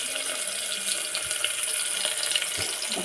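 Water is poured into a cooking pan of fish and spiced garlic paste, giving a steady, close splashing hiss that runs the whole time with no talk.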